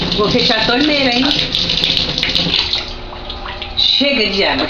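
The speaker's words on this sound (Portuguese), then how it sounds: "Vou fechar a torneira, hein?" Water runs from a household tap in a steady splashing stream, heard close and fairly loud beneath a voice talking to a pet throughout.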